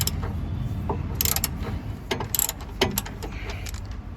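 Socket wrench with a 14 mm socket loosening a long M8 bolt that joins the lower arm to the body frame of a 1999 Maruti Zen, giving several bursts of ratcheting clicks amid close mechanical clatter.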